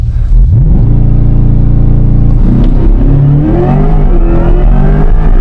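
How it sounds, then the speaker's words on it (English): Corvette E-Ray hybrid launching hard, a loud close whirring drone from the electric motors that climbs in pitch as the car accelerates, with engine rumble building underneath. "You can hear the electric motors."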